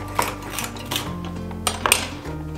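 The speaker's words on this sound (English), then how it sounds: "I'm just gonna mix this in with the grapes." Chopped celery being mixed with grapes in a bowl, a few light clinks and scrapes of a utensil against the dish spaced irregularly over a couple of seconds, close by with no talk.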